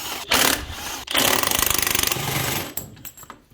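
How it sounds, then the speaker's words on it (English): A ratchet on a long extension undoes the drive shaft bolts of an MK5 Golf TDI, giving a loud, fast run of rattling clicks in a steady burst between clunks and shuffling. "with a nice long extension, I'm just going to undo these drive shaft bolts"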